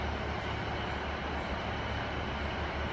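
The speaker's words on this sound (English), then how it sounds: "Looks like it's some kind of freight train." A Colas Rail freight train hauled by class 70 locomotives arrives at Exeter St David's station, giving a steady low rumble and rolling rail noise that holds close and constant throughout.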